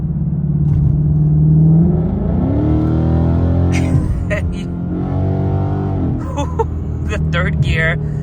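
A Ford Mustang GT with a 10-speed automatic accelerates hard, engine roaring loud and close as it climbs through the revs, with a gear change partway and sharp clicks near the end.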